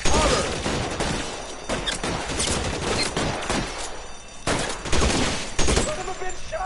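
In the LA Noire video game, a shootout rattles with rapid, dense bursts of gunfire in overlapping volleys, loud and close, while voices shout beneath the shots.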